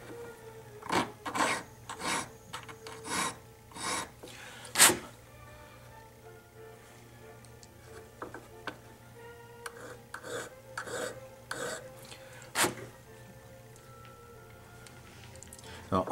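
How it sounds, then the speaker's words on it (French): A hand file rasps off the excess length of a metal rivet pin in jewelry work, heard as quiet repeated scraping strokes in uneven bursts against a low steady hum. "limer ce qui excède."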